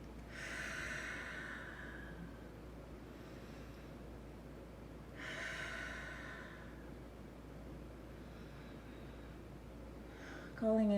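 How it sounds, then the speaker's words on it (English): Slow, deep breaths drawn in and let out audibly, two long clear breathing cycles close to the microphone with quiet pauses between, ending with a brief rustle. "I'm going to take a few deep breaths"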